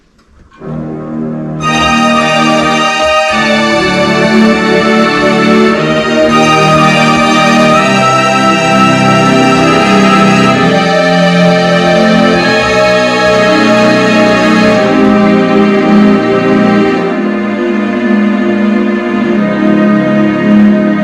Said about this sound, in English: So here is the strings.